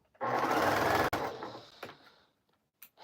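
Sewing machine running a burst of stitching through cotton quilt pieces for a scrap quilt, loud and steady for about a second, then quieter handling clicks and rustles.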